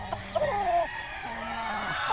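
Close-up large chickens clucking and calling in drawn-out, wavering notes, with farmyard background noise.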